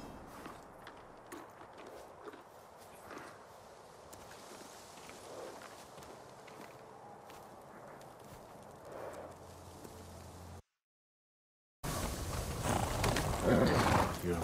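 Horse hooves clip-clop at a walking pace in the game Ghost of Tsushima, steady and moderately near under ambient game sound, cutting out briefly before louder action noise returns.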